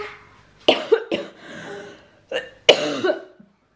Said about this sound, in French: j'arrête pas de tousser, c'est hyper chiant